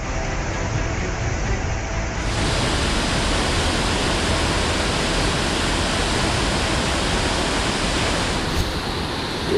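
Floodwater surges past the collapsing Chakki bridge in Kangra, Himachal Pradesh, a loud, unbroken roar of rushing water that never lets up, with no voices.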